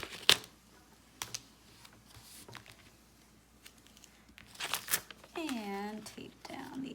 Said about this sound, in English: And then I'm just going to tape down one side of the pocket.